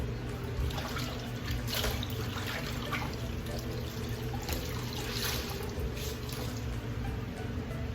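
Tap water runs steadily and close into a sink for the whole stretch as soap is rinsed out of an eye, making a constant rushing splash with faint dripping and no pauses.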